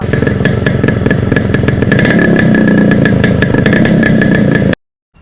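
A Yamaha RX two-stroke motorcycle engine running loud and close, a fast, steady rattling beat that holds for several seconds before cutting off abruptly.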